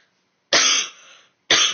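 Two sharp, close coughs, the first followed by a short raspy tail, separated by a brief silence.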